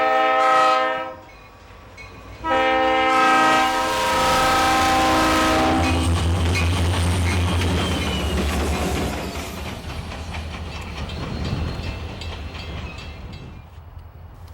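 A Pan Am Railways freight train with three working locomotives blows two loud horn blasts, then diesel engines rumble and wheels clatter as the train moves past, fading somewhat toward the end.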